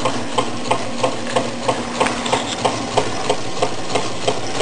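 A candle-powered Meccano Stirling engine runs steadily, its flywheel and gearing driving a Ferris wheel through a centrifugal clutch, giving a regular mechanical ticking or knocking beat of about two clicks per second over a continuous whirring hum.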